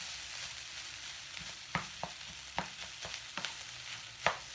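Vegetable fried rice sizzles steadily in a pan while a utensil stirs it, its sharp scrapes and clacks landing irregularly over the constant frying hiss.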